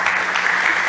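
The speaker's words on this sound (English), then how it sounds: "Okay, well, big applause for Mithea." A brief burst of audience applause after a mobility startup pitch on a competition stage, dense steady clapping close and loud for about a second.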